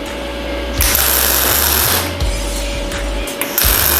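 Super Tools Migmma 200i MIG welder spot welding steel profiles, giving a steady loud crackling buzz with short bursts of arc as each spot weld strikes and stops, close up with no talking.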